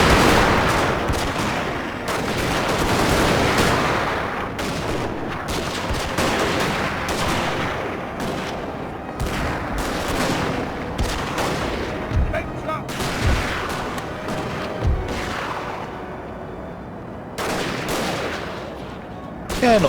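Musket volleys crackle across a Napoleon: Total War battlefield, repeated ragged bursts of gunfire at mid distance, with irregular rhythm over twenty seconds.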